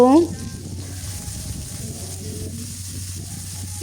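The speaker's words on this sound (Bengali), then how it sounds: "পেঁয়াজগুলোকে ভালোভাবে ভেজে নিচ্ছে হালকা ব্রাউন করে পেঁয়াজগুলো ভেজে নিব" Onions sizzling steadily in hot oil while being fried to light brown for a beef trotters nihari, a constant close frying hiss after a brief opening tone.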